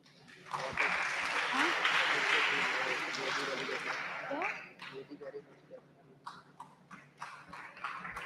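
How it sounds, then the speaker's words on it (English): Audience applause for committee members called up on stage at a school model UN event, a loud burst of clapping swelling for about four seconds, then thinning into scattered claps with voices talking over it. "have a huge round of applause for them."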